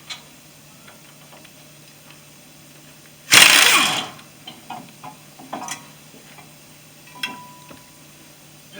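Ratchet loosening 18mm brake caliper bolts on a 2008 Chevy Silverado 1500 4x4, a sharp loud burst of metallic cranking followed by scattered faint ticks and clicks in a quiet garage.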